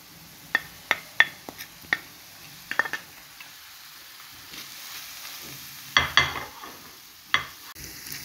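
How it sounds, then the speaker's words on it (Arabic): Chicken breast, onion and pepper sauté in oil in a pan, a soft steady sizzle broken by sharp clacks of a utensil stirring and scraping, in irregular bursts. "عندنا هنايا صدر الدجاج كنشحروه مع الزيت، كنزيدوا عليه البصله كيف ما شفتوا الصوره واضحه امامكم، كنضيفوا الفلفله، كنخليو الكل يتشحر"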